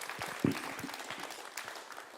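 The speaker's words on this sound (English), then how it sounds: "Let's give them a round of applause." Scattered, fairly quiet applause from the audience at a trails summit in Bangor, North Wales, thin and uneven, with one sharper knock near the start and a soft hint of crowd murmur.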